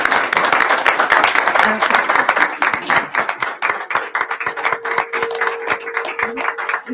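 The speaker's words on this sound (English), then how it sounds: "Let's give them a round of applause." A school board meeting audience claps for long-serving staff, a loud, close burst of hand claps that thins into scattered clapping, with a brief spoken word and some talk mixed in.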